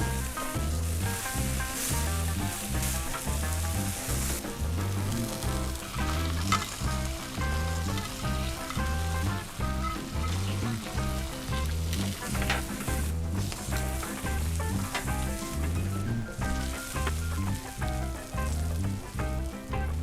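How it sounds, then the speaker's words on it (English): Bacon half-slices and sliced onions sizzle on a Blackstone flat-top griddle in a steady, loud crackle that runs unbroken for twenty seconds, with a rhythmic low pulsing underneath. "We got our nice half pieces of bacon cooking up here. They're gonna sit perfectly on the burger. We got these onions grilling up nicely"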